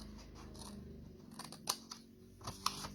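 Scissors snipping through paper along a line for a Christmas box, a few quiet crisp cuts and crunches close by, soft and irregular with a faint background hum.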